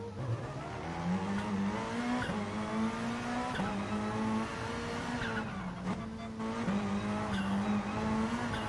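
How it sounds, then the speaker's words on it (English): Sustained, wavering tyre squeal from a Gran Turismo GR3 race car braking late into a corner at Brands Hatch in a racing video game, whining steadily over the engine drone for several seconds. "I'm making the corner, but all that tyre squealing has just hurt it."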